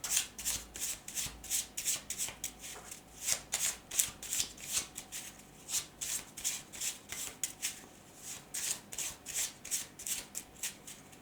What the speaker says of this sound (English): Now I'm gonna take some cards from this feelings and messages deck.